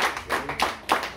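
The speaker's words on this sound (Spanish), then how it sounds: "un aplauso para Luchi ahí" A few people clap for a birthday girl at a family gathering: short bursts of hand claps, close and fairly loud, coming in uneven clusters with brief gaps between them.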